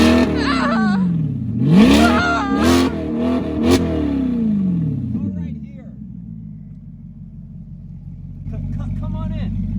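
A Maserati GranTurismo MC S with a resonator delete, catalytic converters retained, is blipped several times, the exhaust snapping up to sharp loud revs and falling back to a low burbling idle, heard close, with voices talking over it.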